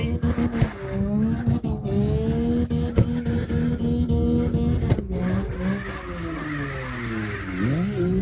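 Arcade-style engine note from a car drifting in CarX Drift Racing, its pitch rising and swooping with revs as tires skid and squeal through long slides, loud and continuous with no talk over it.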